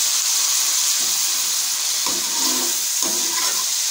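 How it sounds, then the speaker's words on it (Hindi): Prawns and onions fry in a pan with a steady, loud broadband sizzle and hiss throughout, plus a few brief stirring scrapes near the middle and end; no one speaks. "हम प्याज के साथ झींगे पकाएंगे सिर्फ"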